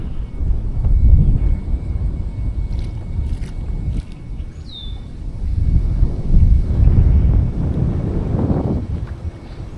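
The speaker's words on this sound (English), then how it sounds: "It's pretty windy, man." Steady wind roars across the microphone over open water, gusting louder near the start and again toward the end, with the low rumble of a Bixpy K-1 motor on a kayak underneath.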